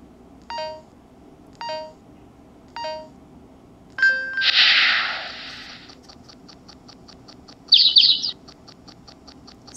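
A helicopter video game on a Livescribe Pulse smartpen plays a few evenly spaced electronic chirps and bird-like tweets, then a burst of noise and a rapid run of beeps, thin and digital.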